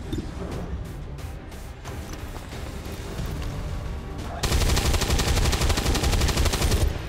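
Video game gunfire from XCOM 2 Long War 2: a few sharp shots early on, then a loud, dense burst of sustained automatic fire for about two and a half seconds before it cuts off.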